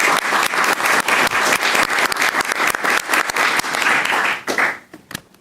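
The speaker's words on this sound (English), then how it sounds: "ask for a round of applause for her stepping forward" Audience applause fills a city council meeting room, a dense burst of many hands clapping at close range for about four seconds before quickly tapering off, with no talking over it.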